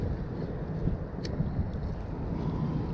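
Wind gusting over a fishing boat while someone casts a lure, a steady low roar and rumble of wind buffeting the microphone throughout, close and continuous with no talk.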